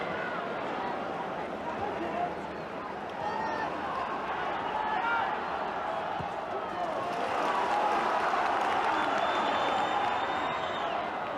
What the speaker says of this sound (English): The home crowd are loving this.